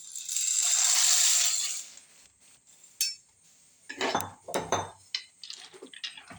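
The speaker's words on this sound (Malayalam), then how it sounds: "നമുക്കതിലേക്ക് മക്രോണി ഇടാം." Dry macaroni goes into a pot of boiling water: a soft rushing hiss first, then a run of light, sharp clinks and rattles as the pieces drop and knock against the metal.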